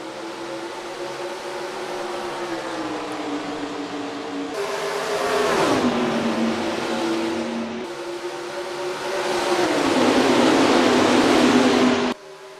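A pack of stock cars roaring toward the green flag at Kentucky in the NASCAR Racing 2003 video game, a steady engine drone that swells louder in two surges as the field accelerates, with no talking.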